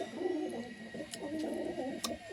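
High-flying Andhra Madrasi pigeons coo softly in low, rolling murmurs, close by, against a faint steady background hum.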